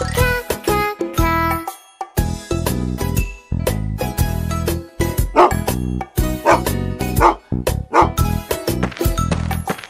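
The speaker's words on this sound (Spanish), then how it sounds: "Perrito, perrito." Small cartoon-style dog barks and yips repeatedly, close and prominent, over a bright children's song with jingling, tinkling percussion.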